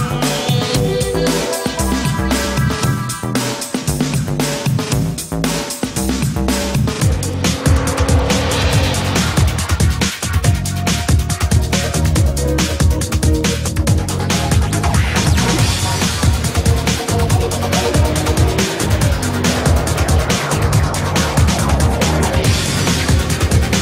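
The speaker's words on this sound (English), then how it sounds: "On this rocky stretch, we test our 4ETS traction system." A Mercedes GLK with the 4ETS traction system drives over a rocky stretch, its engine revving loudly and continuously against crunching and scraping tyres on stone, with no talking.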